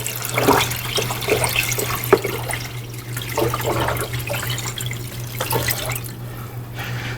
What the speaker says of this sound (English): I'll put this used antifreeze back in there